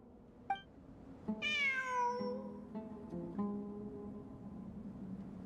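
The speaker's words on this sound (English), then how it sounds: "It really is a cat." A cat in the video game Genshin Impact lets out a single drawn-out, rising and falling meow, close and clear against quiet background music, with a brief click just before it.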